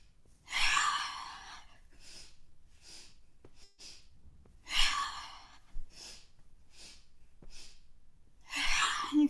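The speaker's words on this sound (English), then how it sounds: "exhaling through the mouth, exhaling really strongly" Strong, forceful breaths pushed out through the mouth during a vinyasa yoga flow, several loud airy exhales in a repeating pattern with softer breaths between them, close and clear.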